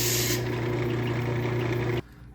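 Sandpaper of 220 grit rubs over a wooden segmented bowl with a steady, loud rasping hum, likely while it spins on a lathe, then cuts off abruptly near the end, leaving a quieter background.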